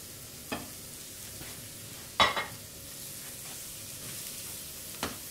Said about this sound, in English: Just nice and gently cook it away there. A little bit of colour.